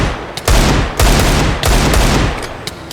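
Loud, close gunfire from a Minecraft mod, with three or four heavy bursts of shots in quick succession over a few seconds.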